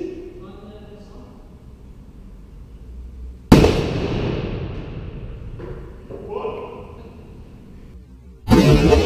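Air gun fired indoors: two sharp, loud cracks, the first near mid-clip trailing into a decaying room echo, the second right at the end, with faint background murmur between.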